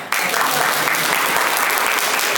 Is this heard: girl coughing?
no